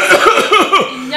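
A man coughs close by in a quick run of four or five harsh, rasping bursts, then falls silent.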